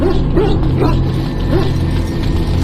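A Mabari war hound in a video game gives about four short yipping barks at an uneven pace. They sit over a steady background of game sound and music at moderate loudness, with no speech.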